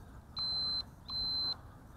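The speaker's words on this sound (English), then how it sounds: "You hear a beep." A Cheerson CX-10WD nano quadcopter camera drone gives two clear, high electronic beeps, each about half a second long, with a short gap between them, in an otherwise quiet room.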